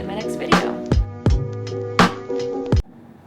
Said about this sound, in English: This is my cat, guys.